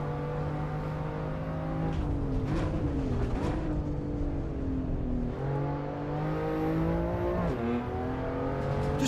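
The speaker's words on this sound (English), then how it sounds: "A little bit of a rasp through the exhaust." Race car in the Assetto Corsa Evo video game, its engine rasping through the exhaust as revs climb and drop in several shifts, a loud, continuous buzzing note that rises and falls with acceleration and braking.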